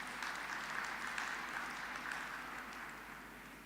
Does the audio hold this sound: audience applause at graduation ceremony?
yes